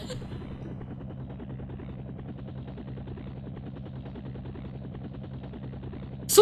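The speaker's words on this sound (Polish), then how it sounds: "Super latam helikopterem przecież." A helicopter flies in the 1996 video game SimCopter, its rotor thumping in a fast, even pulse at steady moderate volume throughout, with a sharp burst right at the end.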